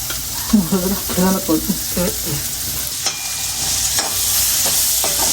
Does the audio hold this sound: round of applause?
no